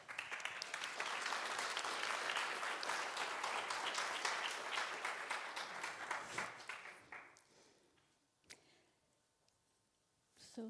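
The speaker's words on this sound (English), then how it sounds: "So a big applause again for the Rector." Sustained audience applause for a university rector at a European education workshop, dense clapping filling the room for several seconds before thinning out and fading to a few scattered claps.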